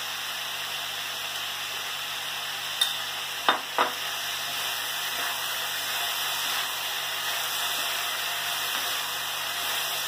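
Vegetables for masaledar khichdi fry quietly in a pan, a soft continuous sizzle broken by a few sharp scrapes of stirring near the start.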